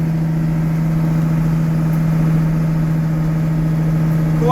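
A Deutz DX 8.30 tractor diesel engine running steadily nearby, a loud continuous low hum with no pauses.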